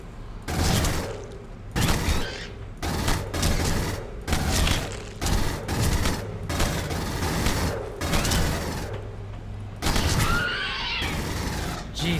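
Video-game gunfire from Aliens: Colonial Marines comes in repeated short bursts, loud and close, separated by brief pauses, with a faint creature-like cry near the end.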